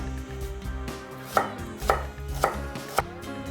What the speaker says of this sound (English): Cut the shallot.